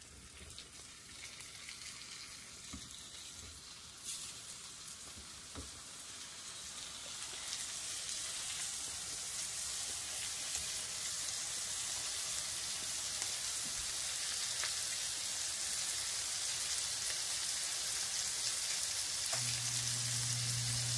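Pork chops fry in browned, foamy butter in a hot pan, giving a steady, loud sizzle that builds slightly and continues without pause.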